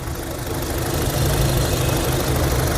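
A 2016 Honda CR-V automatic's engine idles with a steady low rumble and faint vibration, continuous and close, with no talking.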